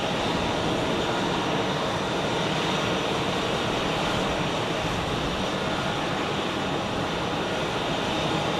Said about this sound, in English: So here we have another Edelweiss Airbus A380, just pushed back from the gate.